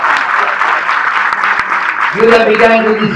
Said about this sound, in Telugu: మీకు మీరే చప్పట్లు కొట్టుకోవాలి, అందరూ కొట్టాలి.